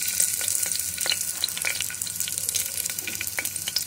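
Chopped ginger frying in ghee for venpongal, a close, steady crackling sizzle with scattered sharp pops across the clip and no voices.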